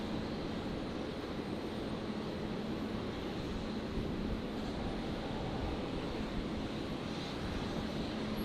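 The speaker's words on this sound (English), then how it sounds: "So this Qantas 73 is going to be heading out on 19 left" A Qantas airliner departing Brisbane Airport on runway 19 left, a broad steady jet roar that stays loud and even throughout with no voices.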